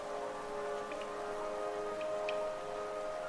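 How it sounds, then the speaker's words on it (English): Rain pours through a stone cave in the game Hollow Knight, a steady hiss of falling water with a few scattered drip ticks, continuous and without speech. "the rain pours down from the cracks in the stone above"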